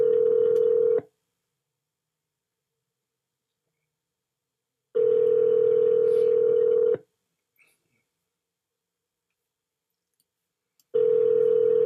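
An outgoing phone call rings unanswered: a steady two-second ring tone sounds, pauses for about four seconds, then repeats, loud and alone with no voices.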